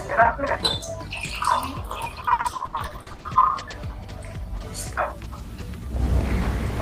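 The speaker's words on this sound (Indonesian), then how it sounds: "Langkah kali ini pertama kita masukkan larutan gula ke dalam gelas" Sugar solution is poured into a glass during a classroom conductivity experiment, making splashy, trickling liquid sounds with small clinks, moderately close, and a louder rush of pouring toward the end.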